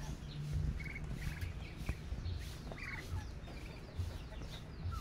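Roosters and other fowl cluck and call intermittently over a steady outdoor background, with occasional louder crows standing out.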